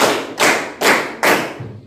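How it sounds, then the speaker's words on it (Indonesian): A group of people claps hands in unison four times, each clap a loud, sharp burst with short decay, evenly spaced in a quick steady rhythm, with no talking over it. "Tepuk tangan 4 kali."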